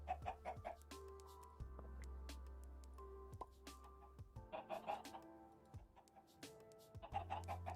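Chickens in the Minecraft modpack Stoneblock 2 cluck repeatedly in short bursts, fairly close, mixed with game ticking and clicks and no talk.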